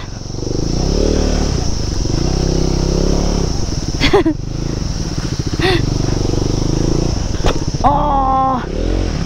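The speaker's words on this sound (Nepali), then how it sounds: "अब त कराउन थाल्यो मेरो बाइक" A motorcycle labors along a rough mountain road from Pokhara toward Manang, its engine droning loudly and steadily. Sharp rattling knocks break through a few times as the bike jolts, and a shifting, wavering tone rises near the end.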